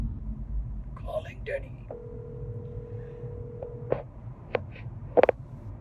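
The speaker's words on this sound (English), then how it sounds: "Calling Denny." A phone call being placed: a steady dial or ringback tone holds for about two seconds after some faint talk, followed by a few short sharp beeps over a low background rumble.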